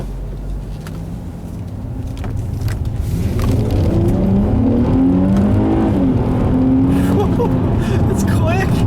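A 2005 Infiniti G35 Coupe with 280 horsepower, driven in manual shift mode, accelerates from a steady hum into a rising engine note with revs climbing across gears, heard from inside the cabin with a person talking over it.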